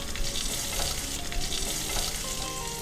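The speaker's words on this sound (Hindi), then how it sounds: "अब मैं ऐड कर देती हूँ थोड़ा सा प्याज" Chopped onion hits hot butter with mustard seeds and curry leaves, giving a loud, dense, steady sizzle with crackling spits and stirring close by.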